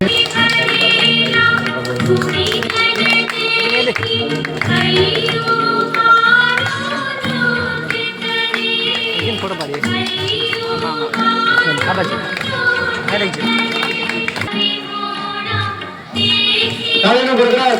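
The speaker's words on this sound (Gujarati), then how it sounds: "તાળીનો ગરબા" Rhythmic group clapping for a garba dance at a school retirement event, steady and continuous beneath loud music and singing, with a crowd present throughout.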